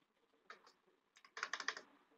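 Quiet computer keyboard typing while entering a label in a LibreOffice Calc dialog: a few soft isolated keystrokes, then a quicker burst of clicks near the end, close and faint in an otherwise silent room.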